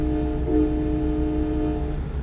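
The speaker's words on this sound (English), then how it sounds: "Got them nice big train horns on this guy." Big train horns fitted to a Freightliner Cascadia semi truck in American Truck Simulator blare in one loud, sustained multi-tone chord that holds steady for about two seconds over the engine rumble.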